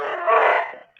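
A dog barks once in a single drawn-out, howling cry that carries clearly and fairly loud, with no one talking over it.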